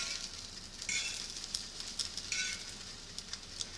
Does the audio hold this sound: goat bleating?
no